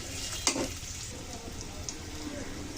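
Potatoes fry with a little turmeric in a pan for a tengra fish curry with potato and eggplant, giving a steady soft sizzle with an occasional stirring scrape near the start.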